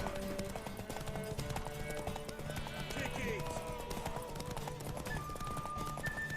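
Hooves clip-clop in a steady trot in The Witcher 3 game beneath a busy mix of voices and background sounds, with a brief horse whinny partway through.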